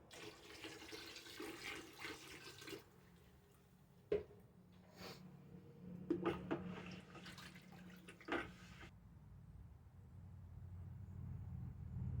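Water pours and splashes steadily into moonshine in a container, with a few clinks and knocks partway through and a rushing trickle toward the end.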